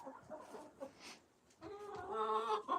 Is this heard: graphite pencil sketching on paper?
no